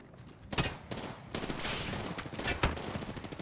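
Several sharp gunshots crack close by in Apex Legends, fired irregularly in quick succession over a noisy, busy game background.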